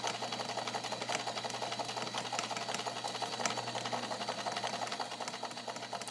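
An all-metal Necchi BU Nova vintage sewing machine runs a wide zigzag stitch at the longest stitch length, giving a steady, fast mechanical whir and rhythmic clatter that continues unbroken, fairly quiet and with no talking.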